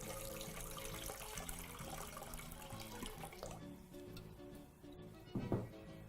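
Tap water runs steadily into a pot, a soft continuous rush that thins out toward the end, followed by a brief clank.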